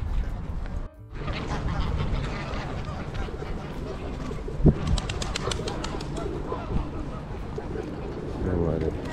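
Pigeons gathering as people scatter grain for them on a busy London street, with cooing and fluttering heard through steady crowd noise and someone talking nearby.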